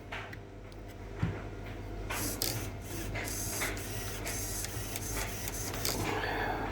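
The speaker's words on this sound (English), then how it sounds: "so it's new servo time. Let's turn it on." A new steering servo on a Tamiya TT01e RC racing truck whirring in short mechanical bursts, a close buzzy motor sound that comes and goes over a constant low electrical hum, with no talking.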